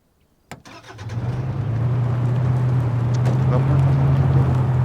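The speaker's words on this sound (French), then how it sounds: "Il y a un véhicule qui arrive à grande vitesse là." A vehicle in the ArmA 3 video game speeds closer, a steady low engine drone that starts with a sharp onset and grows gradually louder, holding a sustained hum throughout with faint game noise.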